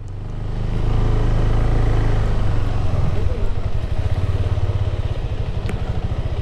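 A motorcycle engine runs steadily and close by, rumbling loud with a rapid putter as it idles and revs, voices faintly under it.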